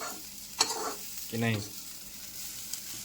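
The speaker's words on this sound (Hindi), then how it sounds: "फिर लगाया तड़का" Tadka tempering sizzles quietly and steadily in a pan over a fire while leftover roti is made into bhalla, with a brief spoken phrase over it.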